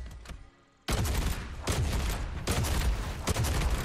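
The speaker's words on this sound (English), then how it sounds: "That's a grenade launcher turret?" Grenade launcher turret in Fortnite firing a rapid string of loud, booming explosive blasts after a short quiet lead-in, with the bursts running together in a dense, continuous barrage.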